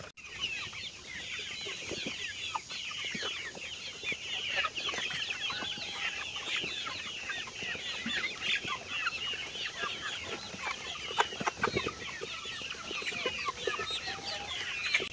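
A flock of chickens clucks busily while drinking dewormer, dense overlapping clucks and chatter continuing throughout at moderate distance with no talking.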